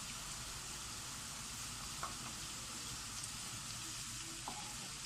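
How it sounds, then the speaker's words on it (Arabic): Onion and garlic fry in a pan with a soft, steady sizzle and crackle, broken by a few faint clicks as they are stirred, heard alone at low volume. "غنزيدوا الثومه باش تشحر لنا مع هذيك البصله مزيان."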